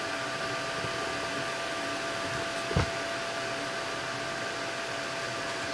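A Tenlog 3D printer runs with a steady, even mechanical whir and hum, broadband and constant throughout, with one brief low thump near the middle.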